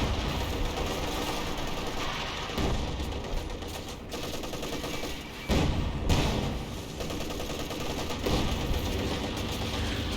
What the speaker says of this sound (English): And there goes that mortar.